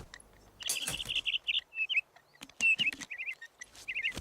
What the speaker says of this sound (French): qu'est-ce que tu chantes bien! J'ignorais que tu étais un oiseau chanteur.